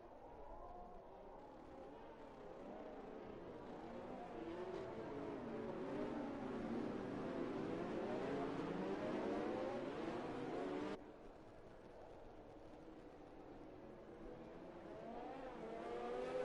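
Formula 2 race cars at Abu Dhabi in a racing video game drone along at steady, moderate revs behind the safety car. The overlapping engine tones rise and fall gently, with a brief drop in level partway through.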